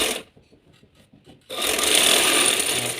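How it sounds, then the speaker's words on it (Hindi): Sewing machine stitching fabric for a baby frock, a steady loud mechanical whirr that starts suddenly after a short, quiet stretch of light rubbing and handling. "अब मैं इसकी बारीक बारीक सिलाई लगाऊंगी"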